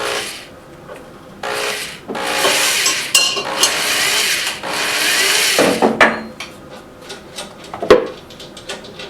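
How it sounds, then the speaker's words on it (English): A hand drill grinds into a wooden log in several bursts of rasping, scraping noise, separated by brief pauses and a few small clinks. "Could have done this on the drill press, but I'll just drill it by hand"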